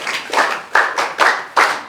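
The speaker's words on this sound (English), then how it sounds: "Please clap for her." A classroom group claps for a student during a physics lesson, several short bursts of hand claps in a rough rhythm, close and fairly loud, with no talking.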